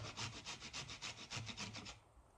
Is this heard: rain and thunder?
no